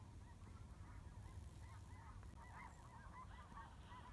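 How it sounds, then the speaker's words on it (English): A flock of geese honks repeatedly in the distance, overlapping calls rising and falling over a steady low rumble of outdoor noise on a cattle farm in winter. "I hear geese."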